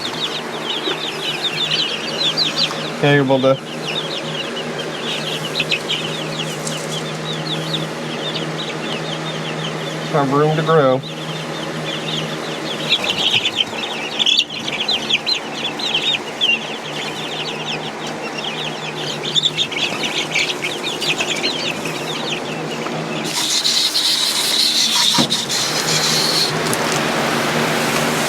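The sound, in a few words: young chicks clucking in a pen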